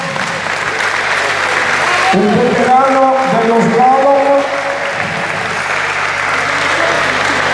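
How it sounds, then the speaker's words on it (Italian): Loud, steady applause from an audience at the 2nd Slalom Città di Altomonte 2021 motorsport event greets a veteran slalom driver, swelling in the middle while someone speaks over it. "Un forte applauso,"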